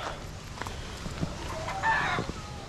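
Young pullet chickens clucking on a poultry farm, a few short soft clucks and calls rising over steady farmyard background noise, fairly close.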